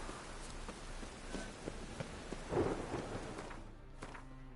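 Rain and thunder from a storm in The Witcher 3: Wild Hunt, a steady wash of rainfall with a low rumble swelling midway, fairly faint and without speech.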